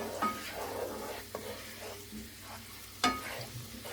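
Pressed garlic cooking in a pan over medium-low heat, a soft, steady sizzle with faint stirring scrapes and a couple of sharper clinks, fairly quiet throughout.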